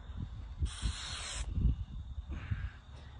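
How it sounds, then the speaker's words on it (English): Two short hissing bursts from an aerosol glue catalyst spray in woodworking, a longer one followed by a softer, briefer one, over low rumbling handling noise. "if your glue's dripping, spray with the catalyst"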